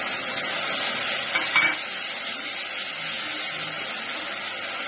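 Garlic and onion paste frying in a pan for a traditional Kumaoni ras bhaat dish gives a steady, close hiss of sizzling that holds at an even level from start to finish, with no voices.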